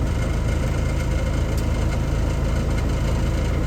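A John Deere 310D backhoe's diesel engine idles in the cold while warming up, a loud, steady, close-up low rumble that stays even throughout with no talking.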